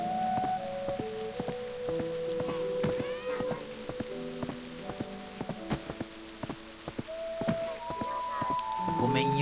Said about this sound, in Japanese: 雨が降ってきたぞ。